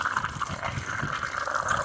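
Water leaks past a worn-out valve ball, a steady close trickling and gurgling flow that runs without pause, with no voices over it.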